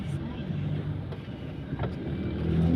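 Traffic on Shirey Highway in Bukidnon, a low, steady engine rumble with a vehicle swelling closer toward the end, while someone talks over it.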